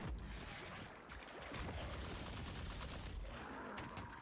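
Rapid automatic gunfire from the Deadly Finger skill in Lost Ark, a stream of bullet shots crackling continuously with game effects layered over it, no talk.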